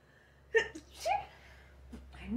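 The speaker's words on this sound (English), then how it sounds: "Oh, I feel like I'm gonna sneeze." A single sneeze with a sharp burst, followed by a breathy exhale and a short vocal sound.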